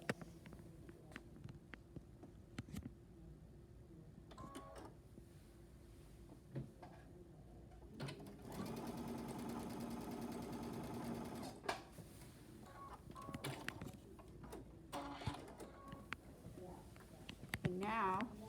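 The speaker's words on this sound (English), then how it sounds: "And then you're going to sew on that line there," Sewing machine stitching a quilt block seam, a quiet steady mechanical whir running for several seconds in the middle, with someone talking before and around it and small handling noises.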